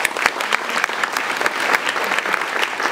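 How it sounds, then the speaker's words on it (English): An audience at a literary prize ceremony claps for the winner, a dense, steady round of applause filling the short stretch without any speech over it. "Clap, yeah."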